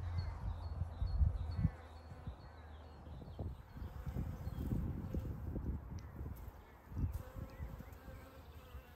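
Bees buzz steadily close by on a flower farm in April, a continuous drone with a few louder swells as insects pass near.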